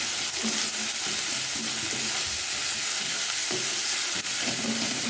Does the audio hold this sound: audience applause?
no